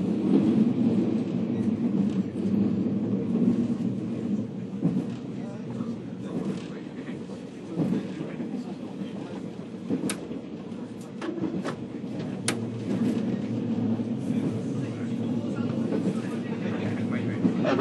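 A JR 485 series revival limited express, the Hato, runs on the Kagoshima Main Line between Moji and Kokura, heard from on board as a steady low rumble of wheels on rails with faint clicks throughout.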